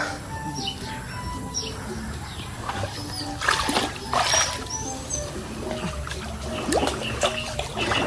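Intermittent splashing and sloshing of water as a boat is pushed through shallow low-tide water, with birds chirping faintly in the background.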